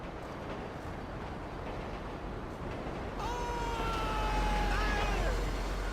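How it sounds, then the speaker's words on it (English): A train passes in GTA 5, a steady low rumble swelling from about three seconds with a long whistle or horn tone sliding in over it and growing louder toward the end, no voices. "I feel like there's a train coming."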